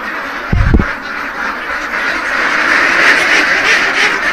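F1 breed ducks quack in a short burst near the start, then a steady broad background noise continues with no talk.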